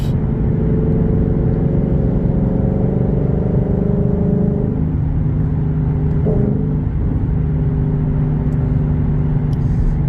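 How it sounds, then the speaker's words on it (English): Car engine droning steadily at highway speed, loud and continuous with a low rumble that lightly shifts pitch partway through, heard on a highway where a yellow older-generation Chevrolet Monte Carlo SS is driving close behind. "I've got an older generation Monte Carlo Bumblebee yellow, driving like a NASCAR guy behind me."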